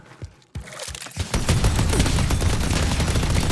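A turret in the Deadlock video game opens up after a couple of isolated shots, settling into a dense, continuous burst of rapid gunfire that stays loud to the end.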